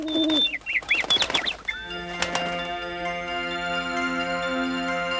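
Cartoon birds coo in a 1990s French animated snowman film, wavering calls up front amid chiming tinkles, then a sustained bright bell-like chord rings out and lingers, loud and clear.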